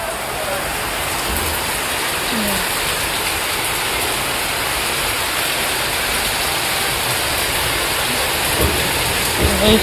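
Steady heavy rain pours throughout, a constant dense hiss with a faint low rumble of distant thunder.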